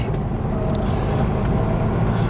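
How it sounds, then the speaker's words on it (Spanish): A 1968 Mini 1275C with a 56-horsepower engine runs steadily, giving a continuous low, throaty drone that stays loud and even throughout, with no talk. "El sonido de este 1275C es muy agradable, la verdad es que suena casi como un deportivo"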